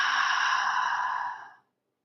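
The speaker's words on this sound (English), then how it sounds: "Open mouth, exhale." A single deep breath let out through an open mouth during a guided breathing exercise, a soft, breathy sigh-like exhale close to the microphone that holds steady for about a second and a half, then tapers off into silence.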